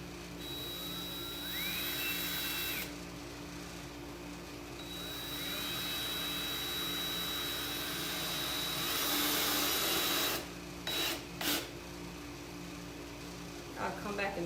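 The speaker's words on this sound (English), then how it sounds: "let's get some screws down in here" A power drill drives screws into a wooden noodle board, its motor whine climbing sharply in two separate runs over a steady, hissing background hum.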